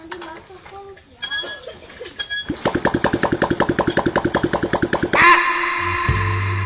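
A Suzuki Satria F150 motorcycle engine cranks and sputters with rapid rhythmic pulses, then catches and revs up briefly before settling; a voice speaks over the start.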